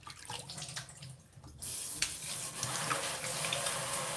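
Tap water runs into a kitchen sink as hands are washed, a soft splashing hiss that swells louder and steadier midway, with no voices.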